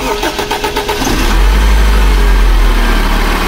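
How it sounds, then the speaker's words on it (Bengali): A 2004 Toyota TRH200 starting up: loud, close rhythmic cranking for about a second, then the engine catches and settles into a steady, loud idle. "তো ইঞ্জিনটা স্টার্ট করতেছি।"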